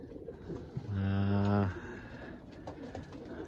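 Pigeons in a loft give one clear, close, low throaty coo lasting under a second, followed by soft background murmur and faint rustling.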